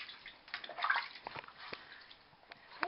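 Water sloshes and drips softly in a baby's bath, with small splashes and trickles scattered unevenly at close range and low volume.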